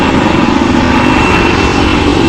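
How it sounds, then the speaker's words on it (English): A light combat helicopter performs at an air show, its loud, steady engine and rotor roar filling the air continuously as it flies away. "This beauty, the light combat helicopter, surely teases as it goes away."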